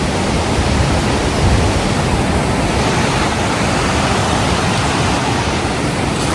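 Continuous roar of a river flowing right beside a muddy campsite tent at Sagana, loud and even throughout with no talking.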